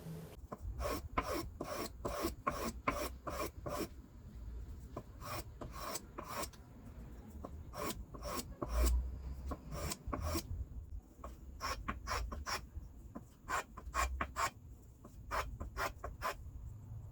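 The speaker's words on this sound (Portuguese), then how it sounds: "Usando essa lixa na base, eu fiz também a regularização das faces do pedaço de madeira e o arredondamento de todos os cantos" A wooden piece is sanded by hand with sandpaper laid on a granite base, fast rhythmic rasping strokes repeating in quick bursts with short pauses, close and steady throughout.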